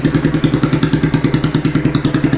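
A Yamaha Megapro custom bobber motorcycle with a free-flow exhaust idles close by, a deep, heavy exhaust with a loud, even rhythmic thumping pulse throughout.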